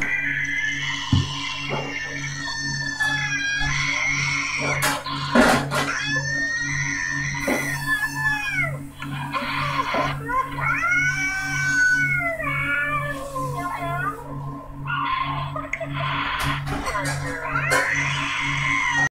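A person imitates an angry cat, letting out a loud, wavering screech with rising and falling yowls over a steady low background hum, sustained for most of the stretch.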